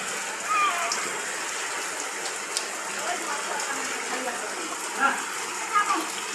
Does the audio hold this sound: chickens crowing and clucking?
no